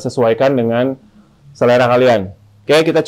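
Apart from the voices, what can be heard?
None of the usual background noises is heard.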